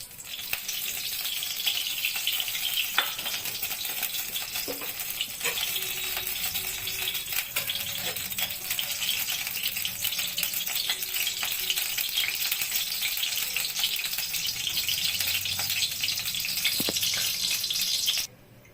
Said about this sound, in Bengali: কড়াই গরম হয়ে গেছে এবং কড়াইতে আমি তেল দিচ্ছি